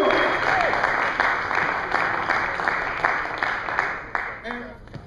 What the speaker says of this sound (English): Can we bring her on with a round of applause?